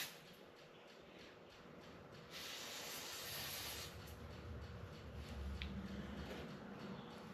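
Carburetor or brake parts cleaner sprayed onto a part from a February 1966 Coleman model 220F camp stove, a steady close hiss that swells for a couple of seconds and then settles into a lower rushing spray.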